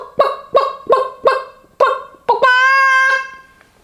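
Laying hens in a backyard coop give a run of five sharp, loud clucks at a steady beat, then one long, sustained squawking call close by, with no talk.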